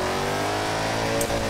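Combat car from the Halo games driven in Forza Horizon 4, its engine revving in a steady, loud drone that stays close throughout with no one talking.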